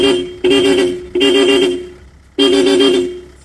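Close, loud Hella dual chrome car horn blasts, three honks with short gaps, each a bright sustained tone that fades slightly before cutting off, with the engine running.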